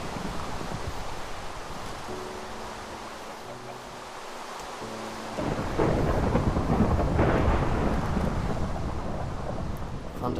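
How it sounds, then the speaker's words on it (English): Thunderstorm in the video game Minecraft: steady heavy rain hiss with a deep rolling rumble of thunder that swells louder midway and holds, no speech. "Thunder sounds vicious."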